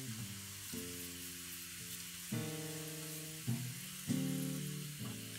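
Asafoetida and ginger frying in hot oil for dal give a steady, close sizzle that runs throughout, partly under tonal background music.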